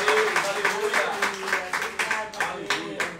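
A church congregation clapping together in a quick, steady rhythm while a voice speaks over the applause, moderately loud and filling a reverberant hall.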